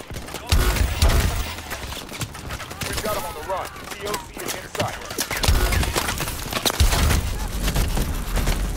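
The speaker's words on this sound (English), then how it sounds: "Who's shooting at me?" Gunfire rattles through a Call of Duty: Advanced Warfare campaign battle against mechs, with dense repeated bursts and sharp impacts over a loud, busy game soundscape, filling the whole stretch at close range.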